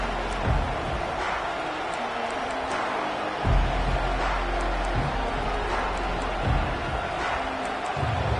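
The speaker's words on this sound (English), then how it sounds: "This crowd bringing an ear-splitting welcome to their visitors." A college football stadium crowd roars during a Nebraska Huskers game as a broad, continuous wall of cheering, with louder surges and sharp bursts throughout.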